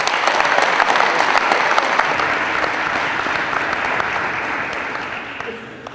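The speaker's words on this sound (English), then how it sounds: "One more big round of applause, guys, for everyone before we do our signing." Sustained applause from a crowd at a high school National Letter of Intent signing day, dense clapping that stays loud and gradually tapers toward the end.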